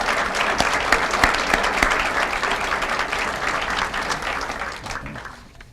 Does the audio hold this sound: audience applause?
yes